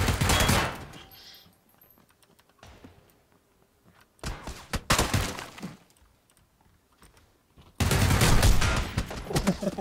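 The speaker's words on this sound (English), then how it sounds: "I just got met with two shotguns." Shotgun blasts in PUBG hit in three loud, close bursts separated by quiet gaps, each a sharp crack followed by a short rattling tail, with faint clicks in between.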